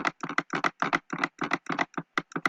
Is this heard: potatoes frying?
no